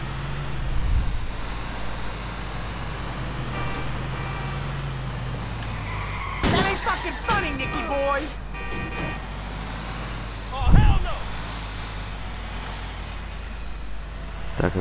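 Engine of a heavy vehicle driving in Grand Theft Auto IV while fleeing police: a steady low rumble running throughout, broken by a burst of mechanical clatter and hissing in the middle and a brief loud thump near the end, with no talk.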